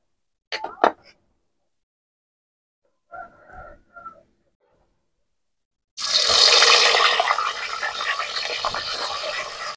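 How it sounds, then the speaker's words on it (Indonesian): Running tap water pours steadily over tuna fish being rinsed before frying in a home kitchen, a broad splashing wash lasting several seconds after a few brief sounds and a short voice. "Terus kita cuci dulu sebelum digoreng."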